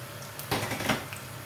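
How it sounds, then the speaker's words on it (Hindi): Onions dropped into hot oil in a pan for nalli nihari give a sudden burst of sizzle and clatter that holds at a moderate level for about a second. "ऑयल गर्म हो गया, प्याज डालूंगी इसमें।"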